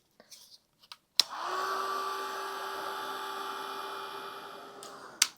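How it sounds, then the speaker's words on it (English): A small Ranger heat tool blows a steady whir over wet watercolor paint, starting abruptly after a few soft clicks and running about four seconds before cutting off with a click. "he's still pretty wet, so I'm going to hit it with my heat gun"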